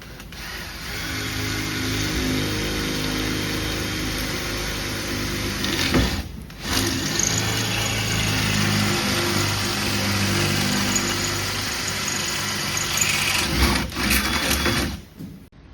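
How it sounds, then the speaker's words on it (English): A continuous whining drill motor boring a hole in a pipe runs steadily, pausing briefly twice before starting up again. "Now they're going to drill the hole in that pipe"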